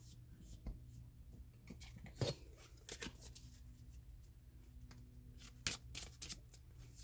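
A deck of playing cards is shuffled by hand at close range, with soft papery riffles and slides broken by a few sharper snaps, quiet and intermittent under faint room noise.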